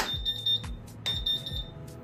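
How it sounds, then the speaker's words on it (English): A Monport K40 laser cutter gives two sets of rapid, high-pitched electronic beeps as its equipment powers on, each a short repeated burst, loud and close, with no talking. "Things are gonna start whirring and making sounds and beeping at you"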